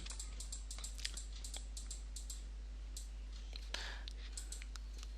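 Crisp mouse and key clicks while stepping through weather charts, a quiet, irregular series of sharp taps over a steady low hum.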